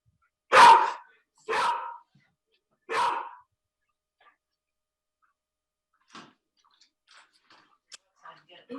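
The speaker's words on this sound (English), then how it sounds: "dog takes issue with that" A dog barks three times, loud and sharp, at roughly one-second intervals, picked up over a remote meeting call. Faint scattered clicks and noises follow after a quiet gap.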